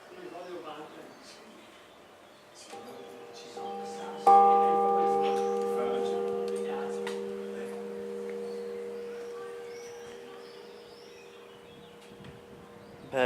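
The slightly rusty bell of the civic tower in Asolo is struck once, gently, ringing a slightly sharp G3 with a long, fading hum. Voices talk before the strike and faint birds chirp around it.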